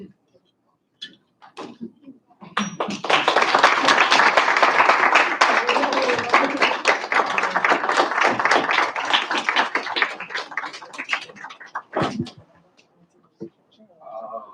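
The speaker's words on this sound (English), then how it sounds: "Remember to clap when they walk in." Student senate members at a university meeting clap as newly confirmed members walk in, a dense round of applause from a small room lasting several seconds, with brief voices and scattered claps before and after.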